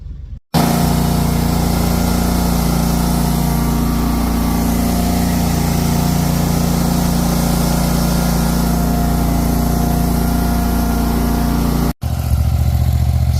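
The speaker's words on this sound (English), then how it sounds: "It got uprooted, so I gotta grind down all this dirt basically." Stump grinder engine running steadily and loud throughout while grinding down dirt around an uprooted stump, with a brief cut near the end before the drone resumes.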